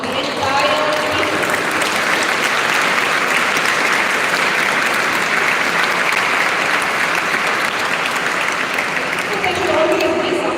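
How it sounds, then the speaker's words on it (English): Sustained audience applause at an international school event fills the hall, steady and loud for about ten seconds, with faint voices underneath and a slight swell near the end. "give a big round of applause to the entire team"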